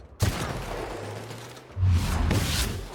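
Gunfire in The Outer Worlds video game comes as two loud, close bursts of shots about a second and a half apart, each sharp at the start and trailing off, with no talking.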